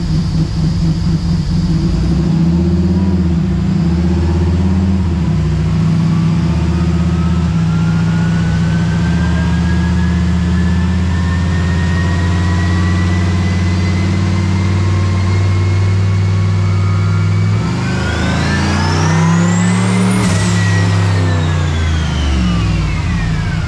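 A 1970 Chevelle with a turbocharged LS3 V8 on a dyno, holding a loud steady drone before climbing in a long rising rev to a high peak, then dropping back as the pull ends.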